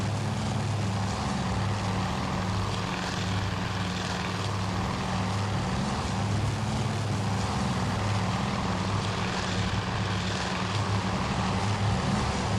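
Enemy propeller aircraft engines drone steadily in the naval combat game Task Force Admiral, a loud, continuous, layered hum with slow swells in intensity, with no talking over it.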